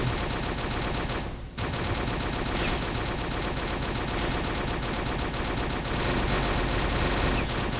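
Continuous automatic gunfire from the UberStrike shooter game runs loud and dense almost without pause. A brief gap comes early, then the rapid shots resume steadily to the end.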